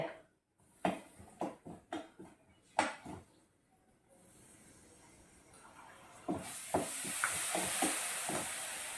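Chili powder frying in a pan, with a run of sharp stirring scrapes and clinks at first, then a steady rising sizzle and hiss with more scattered clatter on top, no voice.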